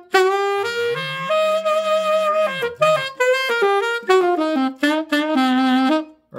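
A saxophone plays a melodic phrase of sustained and bending notes, loud and close, with some notes carrying a rough growl and short breaks between phrases.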